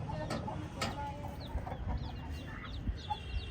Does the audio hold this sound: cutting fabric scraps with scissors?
no